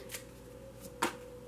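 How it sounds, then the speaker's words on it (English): Tarot cards being shuffled by hand in a quiet room, giving a few soft, brief riffling bursts, with the loudest flutter near the end. "I'm just gonna shuffle while I am talking."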